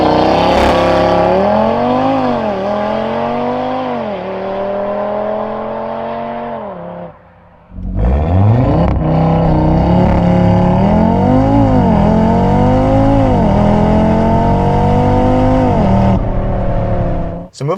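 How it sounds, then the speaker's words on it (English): 2024 Audi RS3 five-cylinder engine with mid-pipes and an aftermarket exhaust, loud and close: revs climb through gears with crisp shifts, a brief lift-off, then a hard pull again. "a 5-cylinder will give you a super unique tone you're not going to hear in another car"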